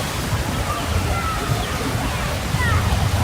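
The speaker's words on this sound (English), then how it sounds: "Little splash pool, it's huge." Water sloshes and splashes continuously in a large splash pool on the Cairns waterfront, a steady wash with people talking over it.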